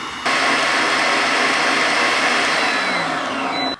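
A stand mixer whips honey and maple marshmallow fluff made with gelatin, a loud, steady whirring drone that holds unbroken for several seconds before cutting off at the end.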